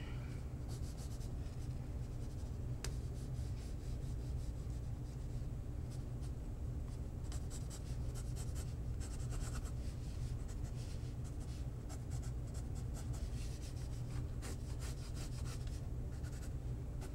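A pencil sketches on paper in a long continuous scratchy rub, with quick strokes and short flicks coming and going steadily, close and alone over a low background hum.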